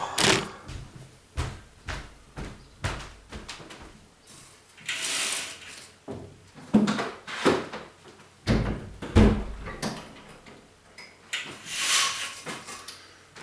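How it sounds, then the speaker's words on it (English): A door is being closed in a room, heard as a long series of close clunks, knocks, rattling latch and handle sounds and soft scrapes in an uneven rhythm, with no speech over them. "I need to close the door"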